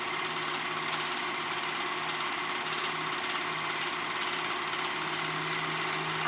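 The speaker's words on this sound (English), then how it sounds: "I'm going to be sewing those sides and the shoulder seams together. Again, I'm using my serger" Serger stitching the side and shoulder seams of a tunic, a steady high motor whir with fast even stitching throughout, close and continuous, no talking.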